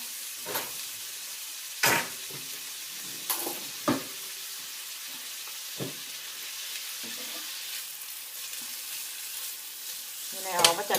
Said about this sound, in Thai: สองขีดเอาลงมาผัดเลยนะคะ เราจะผัดให้หอมนะคะ